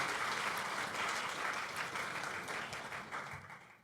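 A crowd at the opening ceremony of an international forum for veiled women entrepreneurs applauds steadily, broad dense clapping that fills the room and tapers slightly toward the end.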